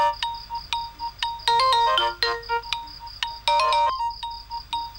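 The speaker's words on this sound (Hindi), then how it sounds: "अरे रुको, साहब जी का फोन हो सकता है।" A phone ringtone plays loudly and close by in a steady repeating melodic pattern, with no voices over it.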